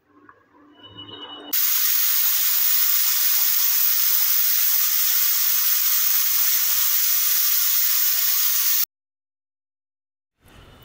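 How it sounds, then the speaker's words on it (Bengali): A pressure cooker of mutton vents with a loud, steady hissing whistle held for about seven seconds, then cut off abruptly, with faint kitchen sounds before and after. "এবার পড়বে সিটি আর রেডি হয়ে যাবে মাটন"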